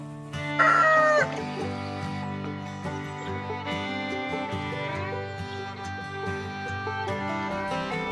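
A rooster crows loudly nearby, its long harmonic cock-a-doodle-doo calls repeating over several seconds, with a few clucking sounds mixed in.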